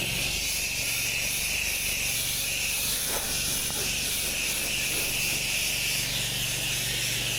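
An X-Jet sprayer applies soap to a car during a hand wash, giving a loud, steady, unbroken spray hiss that fills the whole stretch, with no talking over it.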